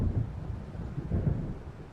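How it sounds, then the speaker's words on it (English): Low distant rumbles of thunder roll in as a storm approaches near a lake in the video game Alan Wake, two soft swelling booms over faint wind and rain. "It seems there's a storm coming."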